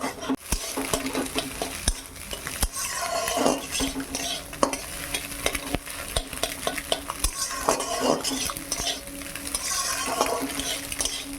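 Egg frying in a pan with salt and pepper, steady close sizzle with frequent scraping stirs and light clinks of utensil on pan, no voices.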